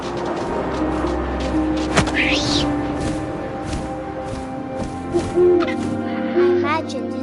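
An owl hoots amid game wind and ambience in What Remains of Edith Finch, short hoots and a rising cry over a steady low backdrop, with a narrating voice talking over it.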